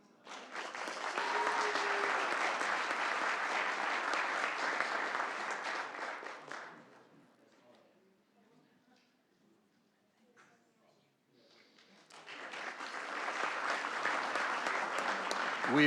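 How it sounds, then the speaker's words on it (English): Applause from an audience at a city council meeting honoring young artists and educators, two long bursts of clapping separated by a quiet gap, fairly loud and steady, with no talk over it. "Please give all of our fine young artists and educators a round of applause."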